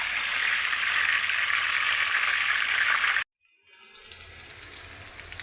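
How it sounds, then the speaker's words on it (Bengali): Onions fry in oil with a steady, bright hiss that cuts off suddenly, then returns more quietly as a softer sizzle. "আমি প্রথমে অল্প একটু পেঁয়াজ বেরেস্তা করে রাখছি"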